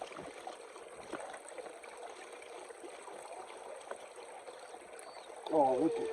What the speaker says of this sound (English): let's get some water in here